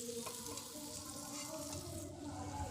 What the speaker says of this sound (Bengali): আর মাছের মাথাটাকে আমি উল্টে পাল্টে কিন্তু কড়া করে সুন্দর করে ভেজে নেব।